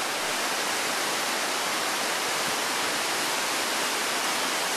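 Rushing whitewater of a big rapid on the Karnali River, a dense steady roar of churning waves filling the whole clip, loud and continuous with no voices.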